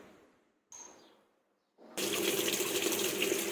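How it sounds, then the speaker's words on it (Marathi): A washing machine starts filling with water before a cleaning cycle with baking soda added: a brief splash, a pause, then a loud steady gush of inflowing water that continues to the end. "मशीन आता पाणी घ्यायला लागली आहे"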